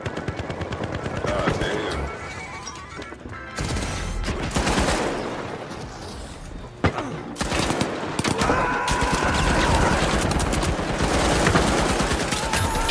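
Light machine gun fire in the video game The Finals, long rattling bursts of rapid shots with short gaps between them, loud and close with explosions and other combat noise mixed in.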